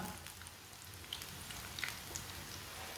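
Green onion pakoras frying in oil over a flame turned slightly below medium, giving a continuous soft bubbling crackle with a few sharper pops scattered throughout.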